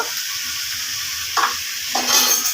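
Taro stems and dried fish sizzle steadily in a frying pan, with two clear scraping stirs of a spatula against the pan near the end, close and moderately loud, no speech.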